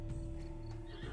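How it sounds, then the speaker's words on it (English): A skittish horse in The Witcher 3: Blood and Wine gives a loud, close whinny with hoof clip-clops, heard alone over the game's steady ambient hum. "The skittish horse?"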